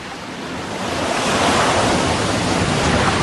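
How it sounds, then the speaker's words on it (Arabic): Strong wind whips across the wide basin of Lake Khanka, churning up waves in a loud, continuous roar of surf and gusting air that swells slightly and carries no voices. "تهب الرياح العاتية فوق حوض البحيرة الرحب وتهيج الأمواج."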